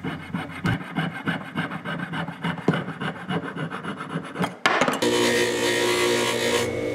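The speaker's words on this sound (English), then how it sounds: "The sprue is sawn off the bottom of the ring." A hand saw cuts the sprue off the bottom of a lost-wax cast ring in steady rhythmic back-and-forth strokes, close and loud, before a louder continuous rasping takes over.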